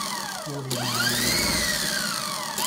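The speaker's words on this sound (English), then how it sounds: "Fast running motor, huh, guys? DC." A small DC motor spins up fast on a charged 1000 µF 50-volt capacitor, a rising whine that sweeps upward and holds a steady high pitch, loud and close with no talk over it.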